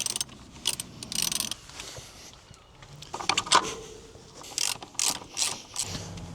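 Mechanical clicking and ratcheting as a brake caliper is refitted on a Royal Enfield Himalayan motorcycle, with sharp intermittent bursts of tool and metal clicks, close and moderately loud, and no talk.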